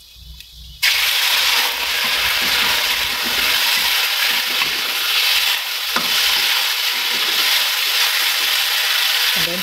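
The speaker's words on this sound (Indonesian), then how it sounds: "Tumis sampai bawangnya harum." Paprika, mushrooms and egg stir-fry in a hot pan: after a quiet first second, a loud continuous sizzle bursts in and holds steady with scraping stirs, no voices.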